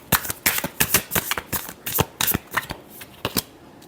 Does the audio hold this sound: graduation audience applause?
no